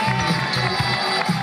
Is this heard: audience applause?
yes